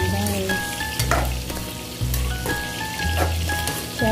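Sayote, carrots, beans and ground chicken being stirred in a sizzling pan, close frying crackle with rhythmic spatula scrapes and metallic clanks repeating about once a second.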